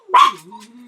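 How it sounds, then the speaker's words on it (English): A single short dog bark, loud and close, tailing off into a faint whine or yip inside a home. "the dogs are barking"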